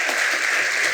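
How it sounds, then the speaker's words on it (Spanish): Applause from a church congregation during a worship service, a steady wash of many hands clapping at close range for the full second, with no pauses. "démosle un aplauso a esas personas"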